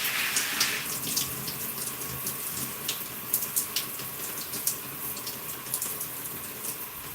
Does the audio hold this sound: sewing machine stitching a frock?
no